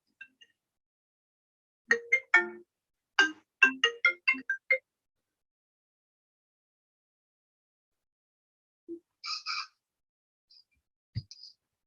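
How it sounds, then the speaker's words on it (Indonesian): A phone ringtone signals an incoming call: several short bursts of electronic chiming tones in quick clusters, followed by a few sparse beeps and clicks, clear and close against near silence. "Ada telepon dari kakak."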